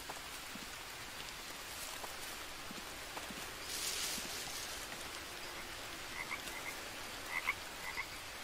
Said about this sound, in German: Hier ist irgendwo ein Frosch.